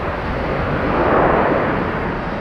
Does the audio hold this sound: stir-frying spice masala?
no